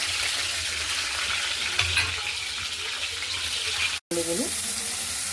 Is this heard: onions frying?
yes